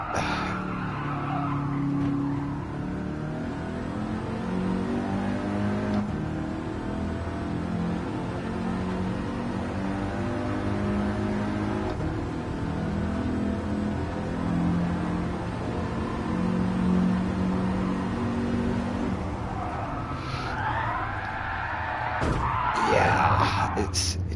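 An Audi TT in a racing video game revs and drones steadily, its engine tone rising and falling as it corners, with tire squeal near the end.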